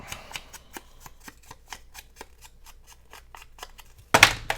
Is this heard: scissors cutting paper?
yes